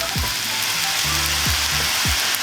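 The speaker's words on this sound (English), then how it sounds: "we're just going to cook that down, really sweeten those onions up and brown them off" Red onions fry in a pan with a pinch of golden syrup, giving a steady close sizzle with a few soft stirring scrapes and no talk.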